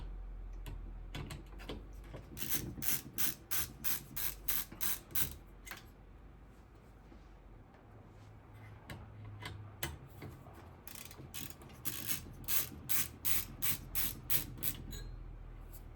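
Screws are backed out of the side of a computer case, giving bursts of close, crisp ratcheting clicks in rapid rows, with quieter handling between the bursts.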